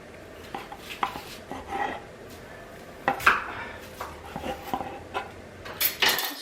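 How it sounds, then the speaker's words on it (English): Knife and dishware clatter as baked potatoes are cubed into bite-sized pieces for a twice-baked potato casserole, with scattered close knocks and scrapes at an irregular pace, no talking. "So we're just gonna cube them up."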